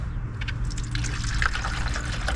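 Distilled water being poured to dilute concentrated coolant while servicing a 2018 Chevy Trax 1.4 liter Ecotec engine, a steady close liquid pour with a continuous gush and trickle, no talking.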